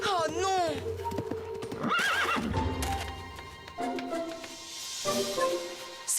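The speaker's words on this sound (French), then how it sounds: "C'est le cheval de mon père!" A horse whinnies loudly with a rising and falling cry in the animated series Yakari, followed by more neighs and hoof clops amid background music and sound effects.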